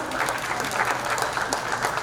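Crowd at an API Heritage Celebration applauds an honoree, a full, continuous patter of many hands clapping at close range, steady across the brief span with no talk over it.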